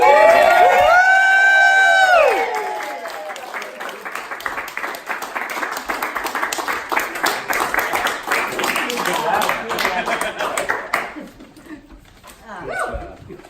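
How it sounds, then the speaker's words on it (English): Party guests at a 50th birthday celebration cheer and clap together as a loud, sustained roar of crowd noise for about nine seconds, fading at the end, preceded by a brief sung or shouted voice. "So everyone stand and give Roy a cheer"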